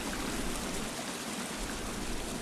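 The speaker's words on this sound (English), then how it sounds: "A waterfall trickles down into a huge pool." Waterfall in the video game The Forest trickling down into a large pool, a steady broadband wash of falling water, even and continuous with no voices.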